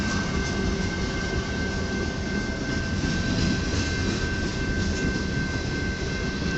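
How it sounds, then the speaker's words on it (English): An eastbound Autorack freight train rolls into Battle Creek, Michigan, a dense continuous roar of wagons passing close by with a steady high whine running through it, unbroken and without voices. "we have an eastbound Autorack train coming into Battle Creek just at sunset"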